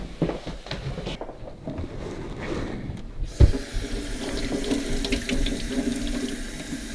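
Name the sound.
water running from tap to rinse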